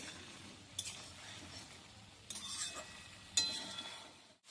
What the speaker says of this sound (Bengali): আলুর মধ্যে যে জলটা আছে সেই জলটা একটু আমি শুকিয়ে নিচ্ছি